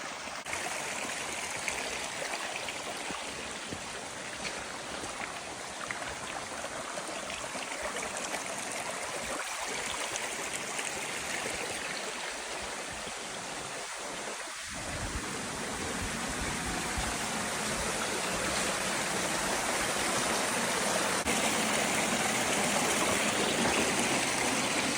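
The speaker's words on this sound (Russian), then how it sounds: "Так, мы дошли, кажется, к водопаду." Steady full-band rush of a waterfall along a forest walking path, continuous and close, swelling slightly louder toward the end with no voices.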